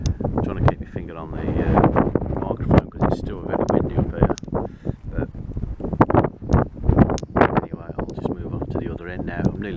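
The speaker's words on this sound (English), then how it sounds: "I'm trying to keep my finger on the microphone because it's still very windy up here." Strong wind buffeting a partly covered microphone on a windy hilltop above Kimmeridge, Dorset, with low rumbling gusts running steadily through the clip.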